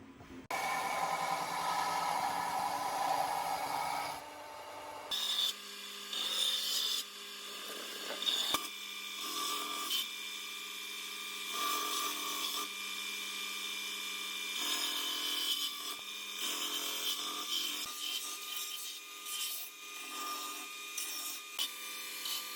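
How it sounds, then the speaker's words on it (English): A hand file rasps along the cut edges of CD mosaic pieces in steady, continuous back-and-forth strokes, close and fairly loud, with no talking. "Now I'm just going to use a file to straighten up some of these little edges and things."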